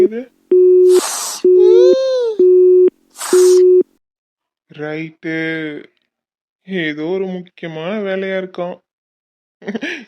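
A phone gives a steady repeating ringback tone, several loud pulses in a row, followed by a child crying and babbling nearby.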